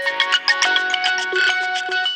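A mobile phone ringtone plays a bright, repeating electronic melody of sustained tones, steady and clear for about two seconds with no one talking.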